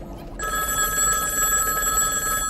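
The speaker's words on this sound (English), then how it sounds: "A ringing phone." A telephone bell starts ringing after a brief quiet moment and keeps trilling loudly and steadily to the end, with no voices.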